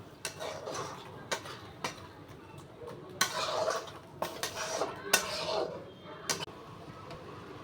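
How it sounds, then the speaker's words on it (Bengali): A spatula clatters and scrapes against a pan while onion, tomato, green chilli, ginger-garlic paste and spices are stir-fried for ghugni, giving irregular metallic knocks over a low steady background. "কাঁচা লঙ্কা দিয়ে টমেটো ভেজে এই যে কষে নেবো একটু।"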